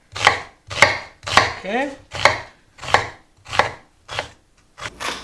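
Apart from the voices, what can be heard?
knife chopping an onion into fine dice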